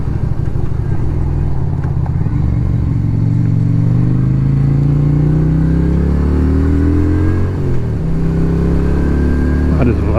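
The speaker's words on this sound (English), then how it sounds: "I just love the sound of this bike." A Lifan Lycan 250 motorcycle ridden on back roads in winter: a steady, close single engine droning and rising in pitch through the gears, with wind noise and someone talking over it.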